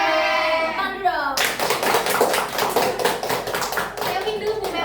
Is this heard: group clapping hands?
yes